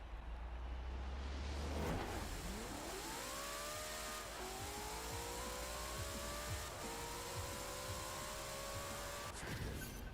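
A 1900HP drag Mustang in the racing game Forza Horizon 4 launches and screams up through several gears, each upshift dropping the pitch before it climbs again, one steady, loud run with no talking.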